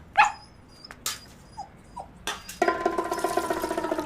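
A dog whimpers in short high yelps, a few scattered cries followed by a run of rapid rhythmic whining, close and fairly quiet.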